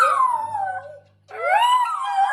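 A Bengal cat yowls in long, sliding, tonal cries that rise and fall like singing, two drawn-out phrases separated by a short pause, close and loud with no talk.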